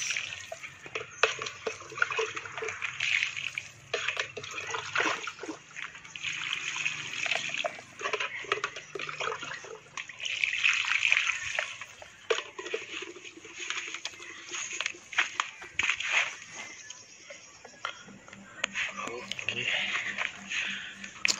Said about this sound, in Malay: Siram sehingga lencun tanah dia sampai air keluar ke lubang pasu tu.